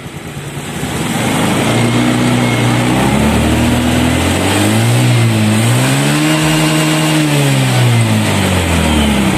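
A Honda Beat injection scooter engine is revved up to about 10,000 RPM, a loud, close, steady whine that rises, wavers and holds high throughout, with no talk.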